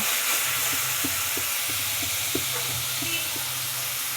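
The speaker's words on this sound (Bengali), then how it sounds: "পেঁয়াজটা খুব সুন্দরভাবে ভাজা হয়ে গেছে এবার এর মধ্যে দিয়ে দেবো আদা রসুন বাটা" Ginger-garlic paste sizzles as it goes into onions already frying in a pan for a jackfruit curry, giving a steady close hiss with a few light scraping taps of stirring and no voices.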